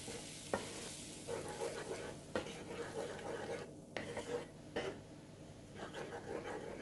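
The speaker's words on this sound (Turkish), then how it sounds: "Böyle azar azar ilave edip sonra hızlıca karıştıralım." Cold milk is stirred into peppers fried with flour in a pan, bringing a soft bubbling sizzle and scraping stir strokes with a few sharp clinks of a utensil against the pan, quiet and close.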